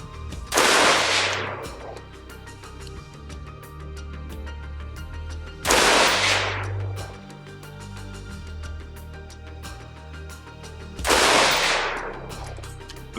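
Three loud single shots ring out about five seconds apart outdoors from a Spike's Tactical ST-15 16-inch M4 LE carbine AR-15 firing 77 grain hollow point boat tail rounds, each crack trailing off in a brief echo.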